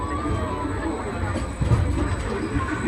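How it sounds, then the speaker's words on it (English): Maglev commuter train ride on magnetic force, a continuous low whooshing rumble with a faint high whine and a slight swell midway, steady throughout. "You'll be able to keep working on a commuter train that runs on magnetic force"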